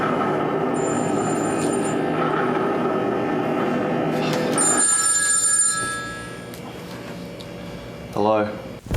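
A telephone bell rings in bursts under a busy background of talk and hum for several seconds, then the room goes quieter and a short warbling tone sounds near the end.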